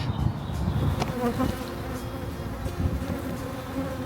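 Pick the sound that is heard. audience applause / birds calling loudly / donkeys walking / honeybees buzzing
honeybees buzzing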